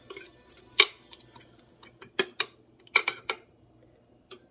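A fork clinks and scrapes against a pan while mixing spicy beef taco filling, a series of irregular metallic taps and scrapes, close and fairly crisp, with no talking.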